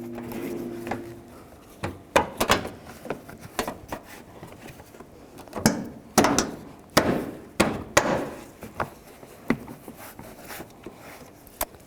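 Plastic push pins and trim shields being pressed and knocked into place on a 2010-2017 Chevrolet Equinox during windshield wiper transmission work, heard as a series of sharp close thumps and clicks in irregular bursts with no talking.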